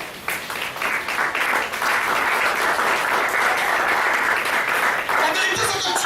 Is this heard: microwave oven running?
no